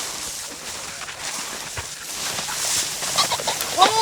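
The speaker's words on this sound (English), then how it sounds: "That was a nice cackle." Game birds on a hunting preserve give a loud, close cackle near the end, after several seconds of quieter outdoor rustling and scattered faint calls, with no talking over it.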